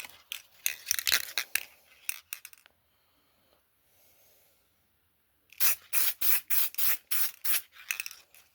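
An aerosol can sprays paint onto an RC car body in short close hissing bursts, a first run of blasts, a quiet gap, then a rapid series of about ten more evenly spaced sprays.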